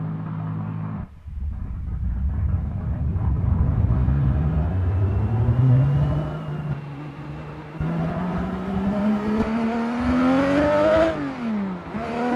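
A race car engine drones on a track in a racing video game, revving continuously with a pitch that climbs steadily through the gears, loud and close, and briefly drops before climbing again near the end.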